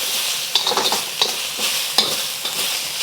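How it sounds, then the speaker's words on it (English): Ginger and garlic stir-fry in hot oil for a Chinese fish dish with ginger and onion sauce, giving a steady close sizzle broken by several sharp spatula scrapes and tosses, with no talking. "add a little bit more oil. We're going to do that and add our ginger and garlic"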